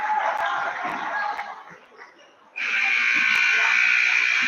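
A loud, sustained electronic buzzer at a high school basketball game blares, dips briefly, then sounds again steadily and strongly to the end.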